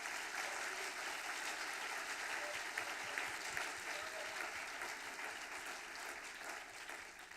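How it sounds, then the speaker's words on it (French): Audience applause at a ceremony, a faint, sustained patter of many hands clapping together from a distance, steady throughout with no break. "on peut les applaudir"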